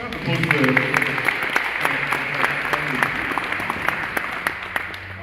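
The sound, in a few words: audience applause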